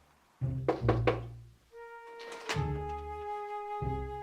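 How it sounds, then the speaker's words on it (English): Knocking on the front door of a house: a quick close cluster of three hard knocks, then a long electronic tone with music carrying on after it. "step 1, knock on the door."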